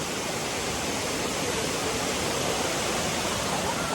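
Ranmudu waterfall roars in a steady, full rush of falling water, constant and close throughout with no breaks.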